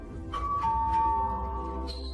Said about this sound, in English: the doorbell rings again.